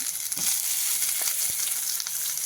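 Onion and tomato frying in a pan: a dense, close hiss of sizzling oil held for a few seconds, with a couple of soft stirring knocks underneath and no voices.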